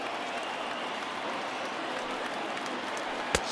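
Baseball crowd applauding in the video game MLB The Show 20 as fans rise to their feet, a steady, broad wash of clapping and crowd noise with a brief sharp peak near the end.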